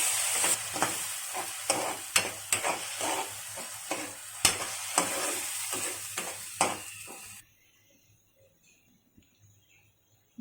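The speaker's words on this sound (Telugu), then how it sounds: "వేసి పచ్చి వాసన పోయే వరకు వేయించుకోవాలి." Tomatoes frying in a pan, sizzling under regular sharp stirring scrapes for about seven seconds before the sound drops away to near silence.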